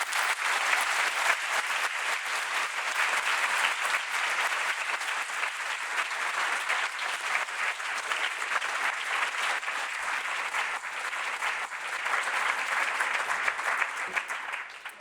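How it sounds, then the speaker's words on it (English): An audience at an event for women in the built environment gives a long round of applause, dense even clapping from a large crowd that stays strong for about fifteen seconds without speech. "I'd just like you to all join me in giving them a big round of applause"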